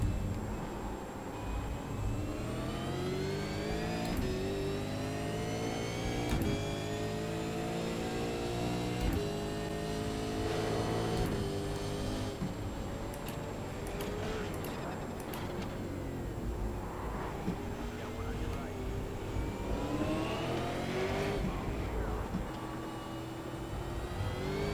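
Several V8 race car engines scream around Imola in a racing video game, their pitch sweeping up and down through gear changes in a steady, droning blend with no one talking.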